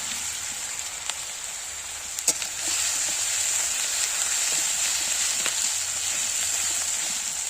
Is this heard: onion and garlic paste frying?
yes